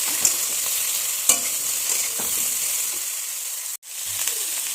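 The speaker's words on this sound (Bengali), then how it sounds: "ঝিঙেগুলো দিয়ে দিচ্ছি এবার আমি একটু নেড়ে চেড়ে নুন হলুদ দিয়ে দেবো" Sliced ridge gourd is stirred in a hot pan with salt and turmeric for a light home-style curry, giving a steady close sizzle with scattered scraping strokes and no talking.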